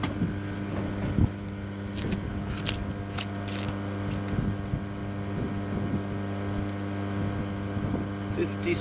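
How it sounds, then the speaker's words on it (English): A pump keeps running after filling a tank, giving a steady droning hum with strong harmonic tones. Faint scattered ticks and some wind noise sit over it throughout. "he's obviously not long come off of pumping in, but the pump's still running."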